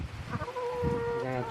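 Wet chickens cluck close by in short, warbling calls that stretch into a longer drawn-out tone, with some soft handling noise and background murmur underneath.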